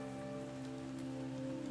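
Steady rain falling on surfaces in a quiet meditative setting, a soft continuous patter without pauses under a faint sustained drone, with no voices.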